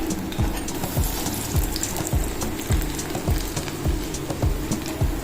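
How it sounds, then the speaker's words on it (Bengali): Paneer pakoras coated in a rice-flour, maida and cornflour batter deep-frying in oil, a close bubbling sizzle broken by regular dull knocks roughly every half second. "ভাজা হয়ে গেছে তুলে নেবো এবার"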